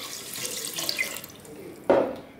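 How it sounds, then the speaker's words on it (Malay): Tap water runs into a pot holding three measures of rice for nasi lemak, a steady hissing pour that swells into a heavier, louder gush near the end. "Sebabkan ni 3 pot beras, so saya nak masuk 3 pot air"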